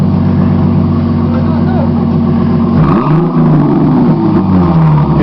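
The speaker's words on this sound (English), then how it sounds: "Now I push the gas." A 1999 Chrysler 300M fitted with a Flowmaster exhaust runs at a loud, close idle, then is revved once, the exhaust note rising and falling before settling back to a steady rumble.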